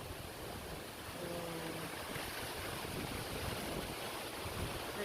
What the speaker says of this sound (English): Here comes another set of wind.